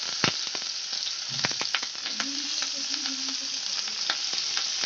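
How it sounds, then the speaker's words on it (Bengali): Long-cut potato pieces fry in hot oil with salt and turmeric, a steady close sizzle with sharp crackles and pops scattered throughout, and no talking. "এবার আলুগুলো আমি লাল করে ফ্রাই করে নেব।"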